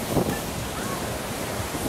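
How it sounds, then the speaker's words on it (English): Water waves washing in steady and close with heavy wind buffeting the microphone, a continuous broad surf roar on a coastal trip in Bulgaria. "hear the sound of the water"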